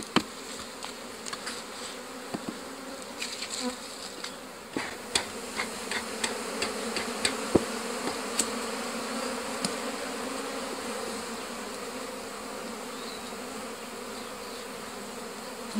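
Honeybees buzzing steadily around a natural-drawn beehive frame without paraffin wax, a close continuous hum broken by scattered sharp knocks and taps in the first half.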